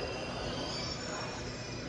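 A Brussels metro train at a station gives a steady broadband rumble with high squealing tones, loud and continuous throughout, with no voices.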